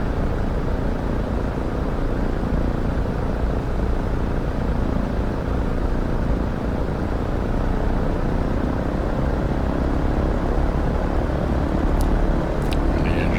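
Radial piston engines of a DC-3 warming up at low RPM in the X-Plane 12 flight simulator, a continuous loud droning rumble that holds steady throughout, with no talking.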